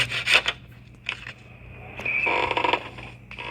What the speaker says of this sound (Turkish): Testereyi bulmuştuk zaten. Şimdi burayı keseceğiz.